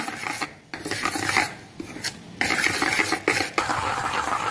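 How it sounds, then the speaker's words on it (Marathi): Gram flour batter for khaman dhokla is whisked briskly in a bowl, producing rapid, rhythmic scraping and slapping strokes. The sound comes close and fairly loud, in bursts separated by short pauses, with faint utensil clinks and no talking. "आपल्याला हे बॅटर 3 ते 4 मिनिटांपर्यंत एकच डायरेक्शन मध्ये छान असं फेटून घ्यायचं आहे।"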